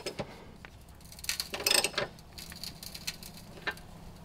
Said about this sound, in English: I'm using a half inch ratchet so I can get some decent force on it.